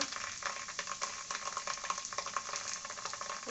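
Browned onions fry in a pan for a country chicken curry as spices and ginger paste go in, giving a dense, steady sizzle with quick stirring scrapes and crackles heard up close.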